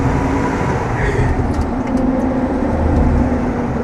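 A Toyota Land Cruiser accelerates on a test drive, a steady loud engine and road rumble filling the cabin while a person speaks over it.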